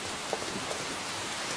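Steady rain in an anime scene, a dense, even hiss of falling rain filling the whole clip, continuous and fairly loud with a couple of faint tonal blips underneath and no talk.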